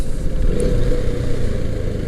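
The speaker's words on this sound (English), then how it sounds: "it feels good to be back on the motorcycle" A motorcycle engine rumbles steadily and loudly up close, with a rough, throbbing low tone throughout.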